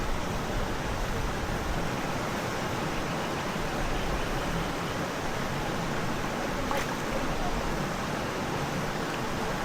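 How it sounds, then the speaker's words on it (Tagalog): A river current rushes strongly past a riverside campsite, a dense, unbroken roar of flowing water at steady volume throughout. "Agos ng tubig. Ganun pa rin, medyo malakas pa rin yung niya, agos niya."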